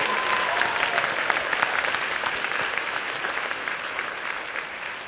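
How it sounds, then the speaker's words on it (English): A San Diego Comic-Con 2014 crowd at the Skybound Entertainment panel claps for a Telltale guest, a broad, even wash of applause filling a large hall and continuing steadily throughout. "Give him a round of applause,"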